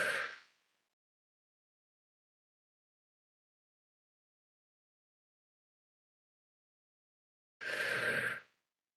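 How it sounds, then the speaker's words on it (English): One deep breath drawn in, then about seven seconds of held silence, then a forceful, breathy exhale released all at once, close and loud, with no talking. "breathing in deeply, holding your breath for a count of 10, and then exhaling with force"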